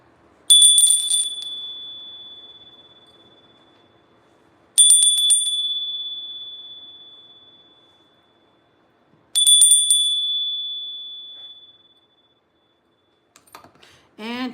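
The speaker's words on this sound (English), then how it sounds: "I'm gonna ring the bell." A small bell rung three times, each a bright, clear ding struck once and left to ring out slowly over several seconds, loud and close in an otherwise quiet room.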